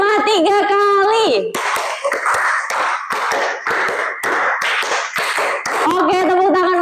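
A class of junior high students claps a rhythmic pattern in unison, sharp group claps in quick repeated bursts, bracketed by a voice singing or chanting at the start and end.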